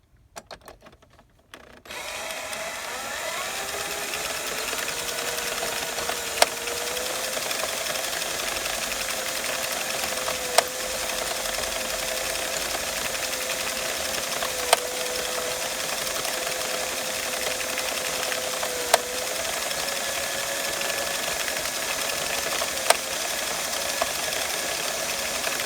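Hand-cranked circular sock knitting machine running steadily for a long stretch, a continuous mechanical whir with a sustained hum and a faint click at regular intervals of several seconds as each round turns, close and alone with no talk.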